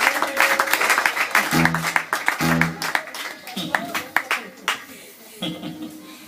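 A church congregation claps in a burst of dense applause, fairly close and fading toward the end, while a preacher's voice and shouts sound over it.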